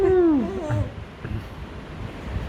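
A baby imitates a donkey, a loud close vocal bray that slides down in pitch over about half a second, then a few softer vocal bursts trail off into quiet room background.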